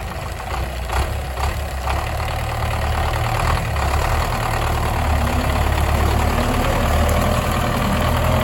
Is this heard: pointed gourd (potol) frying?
no